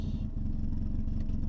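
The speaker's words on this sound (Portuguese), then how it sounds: "Esse som é louco, mas eu vou baixar agora para não escutar o ronco do motor." Volkswagen Gol turbo engine giving a loud, continuous low rumbling roar with a clattering pulse throughout.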